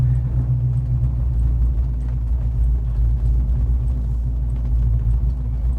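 A car drives along a road, heard from inside the cabin as a loud, steady low engine and road rumble that holds unbroken throughout, with no talking.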